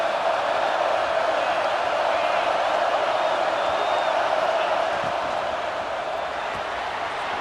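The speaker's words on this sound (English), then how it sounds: "This crowd knows when to bring it." A stadium crowd at a college football game roars in a steady, broad wash of cheering, loud and continuous throughout with no distinct breaks.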